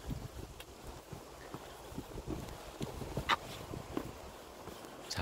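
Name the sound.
wind blowing on Gwanaksan mountain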